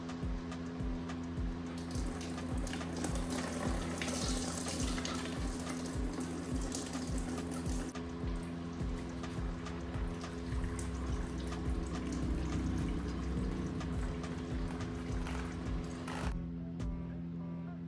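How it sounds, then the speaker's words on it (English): Antifreeze draining from the radiator of a 2003 Yamaha WR250F motorcycle gives a steady trickling, splashing liquid flow that runs continuously at close range, with a constant low mechanical hum underneath. "I want to get to the lowest part of this radiator so I can get the antifreeze out of it."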